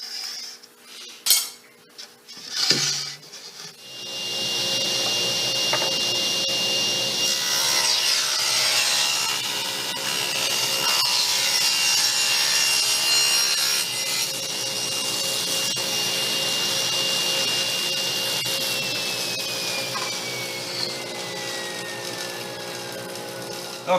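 Power saw cutting a wood panel piece along a fence for a frame-and-panel back: a few sharp knocks, then a steady, loud, whining cut that runs for about fifteen seconds before the pitch slides down as the blade winds down.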